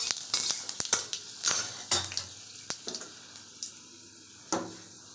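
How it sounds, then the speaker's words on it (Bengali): Dried chillies and panch phoron in hot oil being stirred, a series of distinct clinks and scrapes of a utensil against the pan over a faint sizzle, close by with pauses and no talk. "এবার তেলে দেবো শুকনো লঙ্কা আর পাঁচফোড়ন, তারপরে একটু নাড়িয়ে নেব।"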